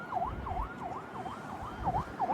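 Police car siren wailing in a steady repeating up-down sweep, about seven cycles, clear and moderately close over low traffic rumble, with no voices.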